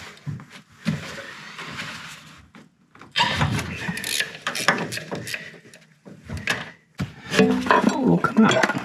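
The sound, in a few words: removing alternator bracket bolt on Honda Acty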